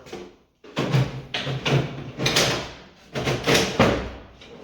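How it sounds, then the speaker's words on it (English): An IKEA cabinet drawer is set onto its slides and pushed in, making a series of rough scraping, rolling strokes and knocks in bursts, close and fairly loud, with no talk. "Ikea drawers, you just set it on and push it in."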